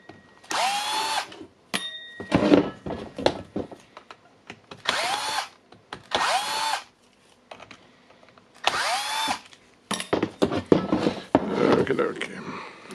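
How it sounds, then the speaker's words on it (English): A Milwaukee M12 drill whirs while taking apart a Milwaukee impact wrench. It runs in several loud, close bursts of a few seconds each, separated by brief pauses with rattling handling noise. "the best tool to disassemble this beast will be the Milwaukee M12 drill"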